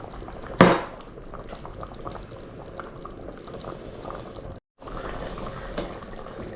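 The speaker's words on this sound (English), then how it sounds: "so we've been bubbling away now for about 50 minutes" Tomato sauce simmers in a pot on the stove, a soft steady bubbling close by, with a brief sharp clink near the start and a momentary drop to silence partway through.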